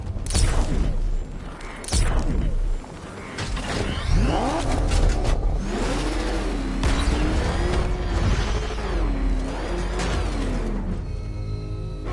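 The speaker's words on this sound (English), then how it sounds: "I need to get the car into this area before I can use it." Car driving in Batman: Arkham Knight on PS4, with a steady engine drone, rising and wavering motor whine, and mechanical clunks throughout, loud and continuous with no talking.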